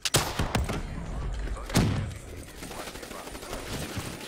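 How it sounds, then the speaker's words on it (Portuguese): Gunfire in Black Ops 3 multiplayer, split screen: a few sharp shots up front, then a heavy blast with a trailing rumble, followed by quieter scattered shots and game noise. "Já atirando, não tô nem vendo quem que eu tô atirando"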